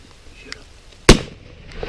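A single loud rifle shot during a bull moose hunt in British Columbia, a sharp close crack with a short rumbling tail in otherwise quiet outdoor air.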